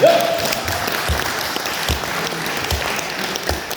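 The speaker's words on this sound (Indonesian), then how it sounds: "Tepuk tangan." An audience claps together at a gathering at a villa in Bedugul, Bali, sustained and fairly loud, with scattered individual claps standing out and no speech over it.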